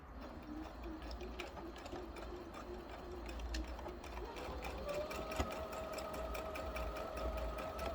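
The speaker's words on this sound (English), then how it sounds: "we're going to take it back to the sewing machine and sew a straight stitch here" Domestic sewing machine running steadily as it sews a straight stitch to close the opening of a fabric reversible cup cover, a continuous mid-level whirring motor hum with rapid needle ticking, no voices.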